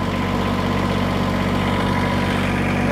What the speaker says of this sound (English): So start the tractor up here